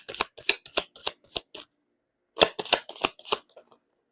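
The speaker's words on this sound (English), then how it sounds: "You saw me shuffle." A deck of tarot cards being shuffled close up: a run of five or six crisp riffling bursts, a pause of about a second, then another cluster of rapid riffles that trails off, with no talking.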